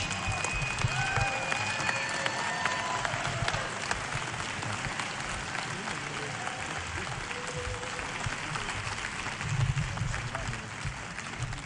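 Steady applause from an audience for Dr. Richard Bartlett, a dense wash of clapping running throughout, with a faint whistle-like tone and some murmuring voices mixed in.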